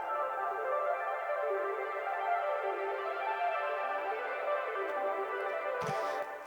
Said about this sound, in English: I also added this little ARP from the Prophet, which also has some fun filter stuff going on